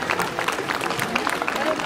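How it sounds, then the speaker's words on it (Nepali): An audience at a Mru Tamu national assembly in Gorkha claps to honour a speaker. The applause is a brief, steady patter of many hands, with voices mixed in. "चेलीबेटीहरूले बढिया ताली लगाएर उहाँलाई सम्मान गरिदिनुको लागि म हार्दिक अनुरोध गर्न चाहन्छु"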